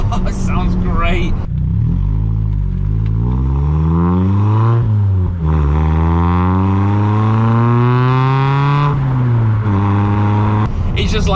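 A car with a full Milltek non-resonated exhaust, 4-1 manifold and sports cat revs up loudly and close, the raspy engine note climbing, dipping and climbing again in long sustained pulls, with brief talk at the start and end.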